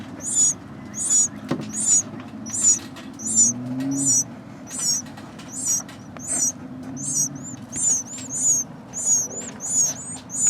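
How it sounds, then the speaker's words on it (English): High, thin chirping calls from several baby birds repeat in steady bursts about every half second, close by, over a low background rumble. "Couple little bird mouths hoping to be fed."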